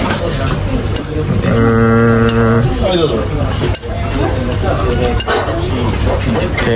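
Food being stirred in a pan during home cooking on a trip in Japan, with sizzling and utensil scrapes through the clip under a mix of voices and a steady tonal hum.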